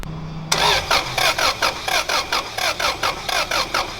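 A car engine cranks on a weak battery during a compression test: a run of slow, rhythmic starter chugs, about a dozen evenly spaced pulses, close and loud after a brief quiet start.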